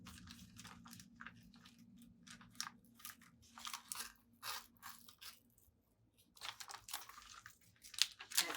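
Plastic container edges being cut apart, giving a string of crisp crunching, crinkling snips in irregular bursts, close and fairly quiet, with short pauses between cuts and a sharper snap near the end.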